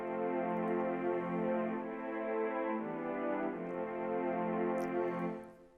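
Sustained string chords in an Afro House beat made in FL Studio, a smooth continuous layered pad that shifts chord roughly every couple of seconds, steady and fairly soft, alone without talk.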